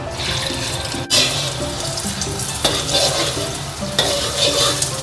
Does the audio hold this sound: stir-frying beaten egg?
yes